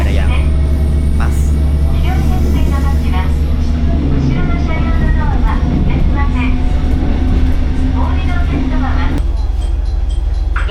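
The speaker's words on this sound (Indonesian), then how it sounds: "aku sedang nungguin pintu kereta ini menutup." Train interior in Japan while stopped with doors open before closing, a loud steady low rumble of the idling railcar with announcements or chimes and voices layered over it.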